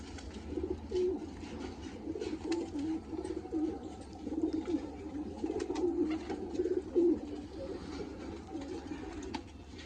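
Pigeons coo steadily in low, throaty rolling calls that overlap and repeat throughout, with faint background noise and no voices.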